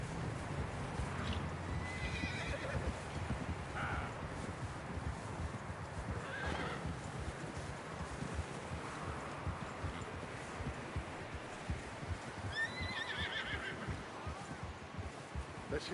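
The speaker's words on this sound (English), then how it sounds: "Get a hold of that horse" In the Red Dead Redemption 2 video game, horses whinny and snort several times over a soft, continuous clip-clop of hooves and rustling ground, all fairly quiet and distant-sounding, with no talk.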